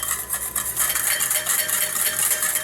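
A whisk beats salad dressing in a bowl for Salad Lyonnaise while oil is added, giving a steady, rapid, close scraping and sloshing churn with no pauses and no voices.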